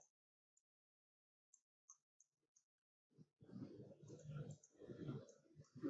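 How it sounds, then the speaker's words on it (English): Computer mouse clicks while viewing scanned book pages on a computer, a few faint, sparse clicks in near silence, then a person talks over them. "I'm just going to double click on that"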